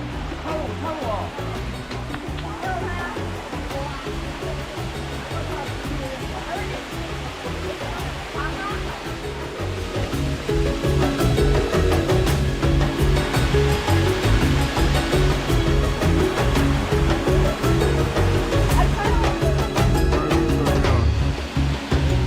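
Jungle waterfall in Southeast Asia, a steady loud rush of falling water that swells closer and heavier partway through, with people talking over the roar.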